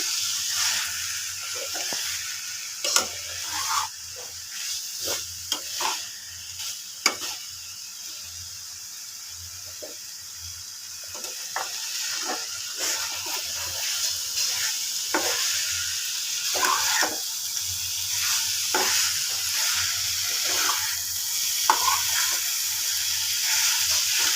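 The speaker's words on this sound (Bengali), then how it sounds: "ভালো করে নেড়ে দিচ্ছি" Chopped banana flower and prawns are stirred in a hot pan, hissing and sizzling continuously while a spatula scrapes and clicks irregularly against the pan throughout.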